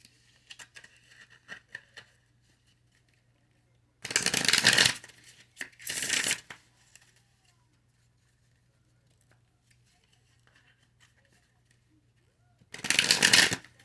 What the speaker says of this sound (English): Half the deck don't fill out. Let me reshuffle.